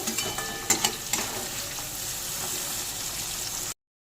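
Vegetable fried rice with beans, carrot, raisins and sugar is stirred in a hot pan, giving a soft continuous sizzle with a few spatula clinks early on, close and fairly quiet, with no one speaking.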